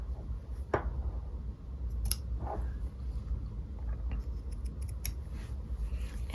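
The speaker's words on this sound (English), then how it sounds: "making sure that I'm only cutting one layer of fabric and not the back of my sweater" Scissors snip through one layer of a hand-knitted sweater during steeking, a few crisp, separate cuts spread out over several seconds, close and quiet against a low background murmur.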